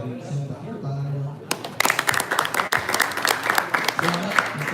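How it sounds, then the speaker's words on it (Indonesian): An audience breaks into applause after a monthly dance performance evening, starting abruptly after a brief spoken lead-in and continuing as dense, lively clapping from a crowd with some voices mixed in. "Saya minta tepuk tangan dulu."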